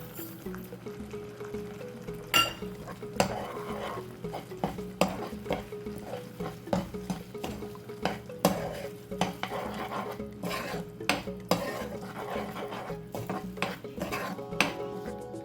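Milk powder, sugar and mango mixture is stirred in a pan over medium heat for an instant mango sweet, a spoon scraping and clinking against the metal in a quick irregular rhythm, with a soft sizzle beneath and no voices.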